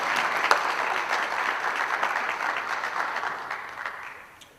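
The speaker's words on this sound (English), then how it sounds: "One more big round of applause for these awesome student athletes." Steady applause from a crowd at a student athletes' awards event, sustained throughout and gradually fading toward the end, with no talking over it.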